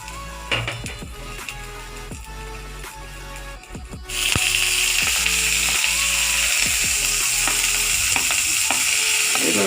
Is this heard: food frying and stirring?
yes